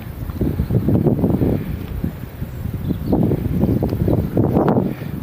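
Gusty wind buffets the microphone outdoors while fishing for catfish from a boat on the water, roaring in two long, loud surges with a brief lull between them and no talk.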